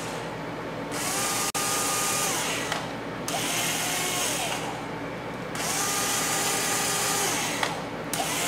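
A power drill drives 5/8-inch screws into a quadcopter frame, a steady whirring whine that runs in three long bursts with brief pauses between them, close by and with no talking.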